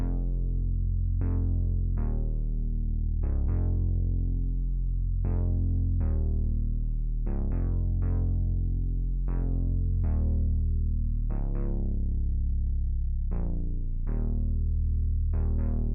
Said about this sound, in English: what I like to use in a lot of my samples is this modular like bass sound